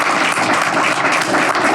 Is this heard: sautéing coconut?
no